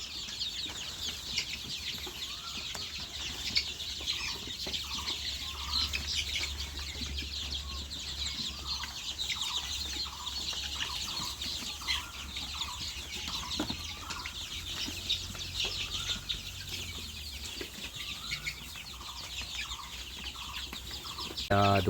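Sonali chickens at thirty days old cluck and peep in a farm shed, a faint, scattered chatter of birds under a steady background hiss, with a brief louder rustle at the end.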